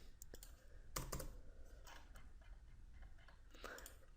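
Faint, quick clicks of typing on a computer keyboard come in short irregular bursts against a quiet room.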